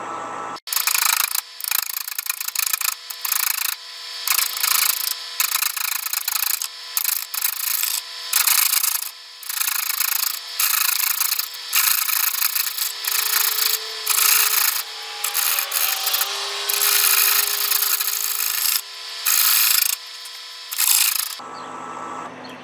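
A wooden dovetail bowl turning on a lathe at about 410 RPM, loud rough scraping and cutting in repeated bursts with brief pauses, close up.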